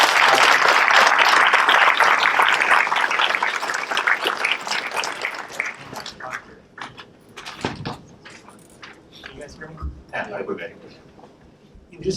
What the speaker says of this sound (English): one more round of applause for our esteemed guests.